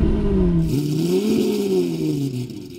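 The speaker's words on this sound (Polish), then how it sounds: "Teraz uruchomię na zimno wszystkie silniki, zaczynając od oryginalnego Aventadora." Lamborghini Aventador V12 engine cold-starting up close, a loud continuous roar with rising and falling revs that flare mid-way and settle toward a high idle, alone without talk.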